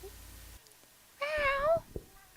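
A person mimics a cat's meow with a single drawn-out, wavering vocal meow in a quiet recording session, followed by brief faint noises.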